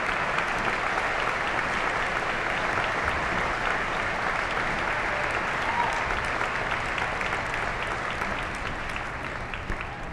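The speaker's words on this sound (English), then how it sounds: "People tapping their feet and clapping their hands." An audience at the Maine governor's inauguration ceremony applauds after a fiddlers' performance, a dense, sustained roar of many hands clapping with no talk over it.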